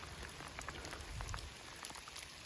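Steady rain falls through the woods on the Appalachian Trail, a soft, continuous patter of drops striking leaves and ground close by, faint and even, with no voices.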